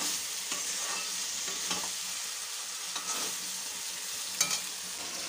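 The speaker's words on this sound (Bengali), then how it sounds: "লঙ্কা বাটা দিয়ে কষে নিচ্ছি ভালো করে" Potato, eggplant, flat beans and slit green chillies being sautéed in mustard oil with salt, turmeric, ginger paste and chilli paste in a wok: a continuous close sizzle with a few soft scrapes of stirring and one sharper knock near the end.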